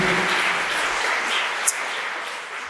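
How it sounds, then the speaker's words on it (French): An audience at a science lecture applauds a Nobel laureate, producing a steady, moderate wash of clapping that continues evenly without speech throughout. "merci de bien vouloir applaudir"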